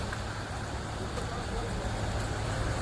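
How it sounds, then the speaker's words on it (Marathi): Heavy traffic with many large vehicles is heard as a dense, loud roar of engines and road noise from a scooter ride in the monsoon, steady and close throughout. "फार बेकार ट्राफिक झाले"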